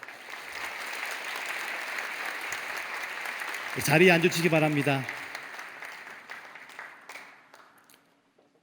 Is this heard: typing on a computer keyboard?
no